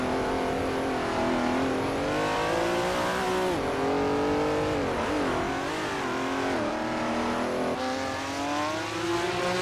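A vintage Ferrari 250 LM race car in a racing video game drones at high revs without a break, its engine pitch rising and falling through gear changes, with a faint tire squeal.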